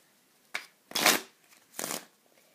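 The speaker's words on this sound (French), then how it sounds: "j'ai un jeu de cartes normal que je peux mélanger" A deck of orange Bicycle playing cards being shuffled by hand, three distinct riffling bursts, the middle one longest and loudest, close and clear with no talking.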